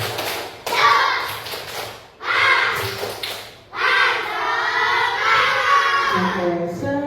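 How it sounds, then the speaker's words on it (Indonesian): A class of children performs the 'tepuk semangat' spirit-clapping chant at the end of a lesson, with bursts of rhythmic clapping and shouted voices in three loud, close phrases separated by brief pauses. "Aku pengen tepuk semangat dulu sebelum kita mengakhiri ini"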